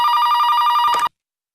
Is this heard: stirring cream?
no